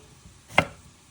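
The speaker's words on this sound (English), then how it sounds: "I just go on a slight angle and slice it nice and thin." Single knife stroke slicing a cucumber thinly at a slight angle on a cutting board, one short crisp cut near the middle against quiet background.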